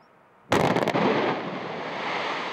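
Quarry blast bringing down 10,000 tonnes of limestone in Lorraine, a sudden loud distant boom after near silence, followed by a sustained rumbling roar of falling rock that slowly settles.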